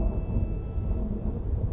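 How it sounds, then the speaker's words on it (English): Thunderstorm with rain showers in Nagaland, a continuous low rumble of thunder over a dense hiss of rain; no voices. "Sporadic showers still continue to pour in October."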